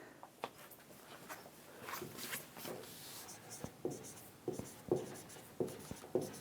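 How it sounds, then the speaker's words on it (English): A pen scratches steadily across a surface while someone writes out an English syntax example sentence by hand. The strokes are soft, close and irregular, with sharper taps from short marks, and there is no speech. "which I am going to write now. Let's write"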